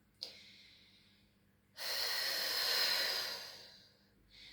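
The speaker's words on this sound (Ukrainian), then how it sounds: "Прям сильно видихаємо." During a breathing practice, a brief sharp breath is followed by one long, strong exhale lasting about two seconds, close and loud, then another breath starts.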